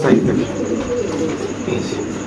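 Spanish pigeons coo in a cage, a soft, low, continuous murmur of several birds close by, with people talking in the background throughout.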